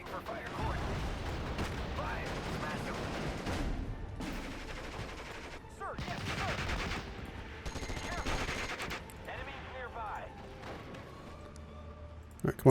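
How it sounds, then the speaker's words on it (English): Artillery and gunfire from the WWII strategy game Steel Division: Normandy 44 in Normandy hedgerow country, with repeated bursts of explosions and rattling shots rising and falling over several seconds, mixed under someone talking throughout. "come on, artillery. Blow that guy up"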